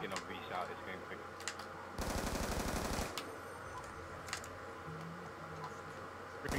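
Automatic gunfire from Call of Duty: Black Ops II, with a dense, loud burst of rapid shots lasting about a second amid game noise, and scattered single sharp cracks elsewhere.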